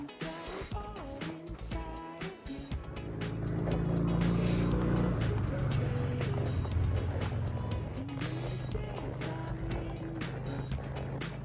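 Steady road traffic from cars passing on a road overhead at a horse campsite, a continuous loud rumble and whoosh that swells after the first few seconds and holds, with a horse nearby.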